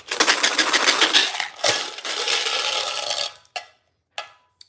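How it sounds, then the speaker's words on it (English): Dice shaken hard in a cup or container make a loud continuous rattle for about three seconds with a short pause, then a few sharp clacks as they settle, with no voices. "I'm going to shake the dice"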